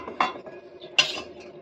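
A spoon stirs powder into cold water in a vessel, making two distinct metallic clinks with a soft scraping in between, close and fairly quiet.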